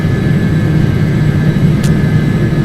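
Twin jet engines of a Hawker 850XP business jet roar at full throttle in a flight simulator, a loud, steady broadband rumble with a constant whine, heard alone without talk.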